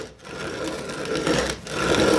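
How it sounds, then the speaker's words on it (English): A manual hand-cranked grain mill grinds flour, giving a steady mechanical grinding and rasping that runs continuously through the clip, with slight surges as the crank turns. "it's grinding up my flour"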